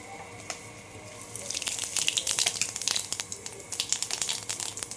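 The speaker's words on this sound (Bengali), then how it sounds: "তো আপনারা দেখুন কড়ার তেল গরম হয়ে গেছে। আমি এতে জিরে ফোড়ন দেবো।" Cumin seeds tempering in hot oil in a wok, a crackling sizzle of sharp pops that builds from a quiet hiss into a steady, close spatter.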